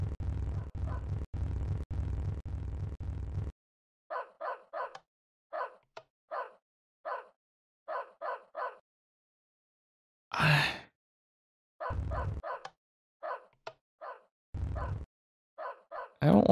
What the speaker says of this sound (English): That's that mechanical dog toy.